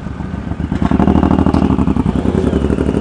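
A motorcycle with a fat rear tire rides off nearby, its engine rumbling and revving up after a brief idle, loud and close throughout.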